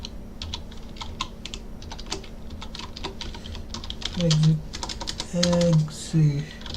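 Code typed on a computer keyboard, rapid irregular bursts of close key clicks with brief pauses, while a person talks over the latter part.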